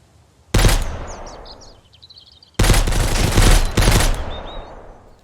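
Bursts of rapid automatic gunfire in the video game Mist Survival, a long volley, a pause, then two more close sustained bursts, loud and without talk.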